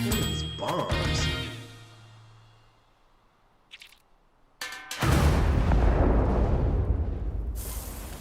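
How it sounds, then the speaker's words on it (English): Bombs go off in a cartoonish comic-book battle: after some tonal effects and a brief pop, a loud, broad explosion erupts and rumbles on for several seconds. "These bombs."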